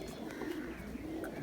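Pigeons coo softly in a loft of red-eyed birds, a low, steady, faint murmuring with a few brief chirps over background voices.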